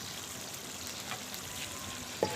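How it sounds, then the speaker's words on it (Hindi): Desi chicken karahi meat frying in a pan, a steady soft sizzle with a faint stir or clink near the end. "अब हम इसको अच्छी तरह भून लेंगे।"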